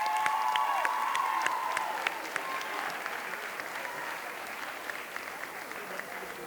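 A crowd claps steadily at a high school winter sports awards night, sustained applause that slowly thins out, with faint voices and no clear cheering.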